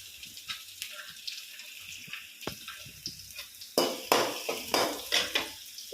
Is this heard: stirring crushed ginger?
yes